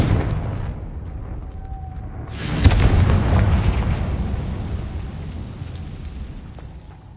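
Fiery blast spells, Confringo and Incendio, cast in Hogwarts Legacy, a loud booming explosion bursting out after a steady rumbling bed, then a long roaring decay with no talk over it.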